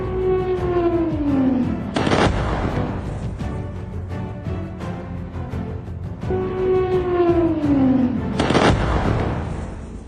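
A dramatized attack on Caracas, Venezuela: twice a descending whistling drone falls from the sky and ends in a loud explosive blast, with rumbling between.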